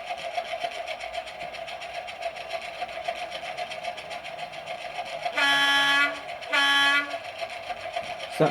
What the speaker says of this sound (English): So that's the horn.